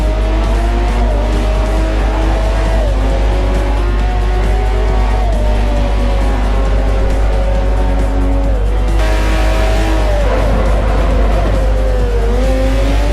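A BMW race car in the Forza 4 game brakes late into a tight left-hander and a right-hander at Silverstone, its engine loud and close, pitch dipping and rising with tires squealing through the corners, no voices.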